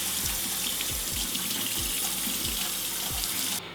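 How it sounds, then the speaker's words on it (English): A kitchen tap pours steadily as greens are rinsed beneath it, a close, continuous rush of water with faint irregular splashes and thumps, cutting off abruptly near the end. "so I'm gonna rinse these off."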